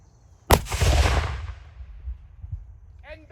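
A Civil War cannon fires with a single loud, sharp boom at close range, followed by a long rumbling decay, and a voice begins to speak right at the end.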